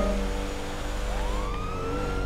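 A police car siren wails in GTA V, its rising and falling tone sounding at moderate distance over steady traffic and engine rumble, with no speech.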